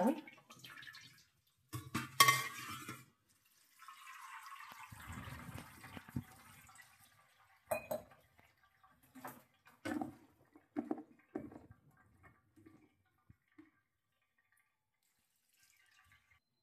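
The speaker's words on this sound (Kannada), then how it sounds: "ಜಾಲರಿಗೆ ಹಾಕಿದ ಮೇಲೆ ಸಡನ್ ಆಗಿ ತಣ್ಣೀರು ಹಾಕೋಬೇಕು ಇದಕ್ಕೆ" Cold water poured over boiled pasta in a strainer, splashing and gushing in several short, close bursts with pauses and scattered drips between them.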